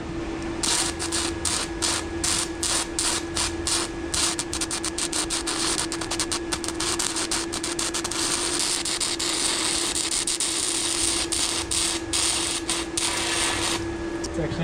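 An inexpensive electric welder laying a bead on a test piece gives a continuous close crackling buzz with a steady hum running under it for the whole stretch.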